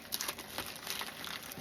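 Poor-quality scissors snip and crinkle through a card package's plastic wrapping, a brief burst of close, faint crackling cuts and rustles.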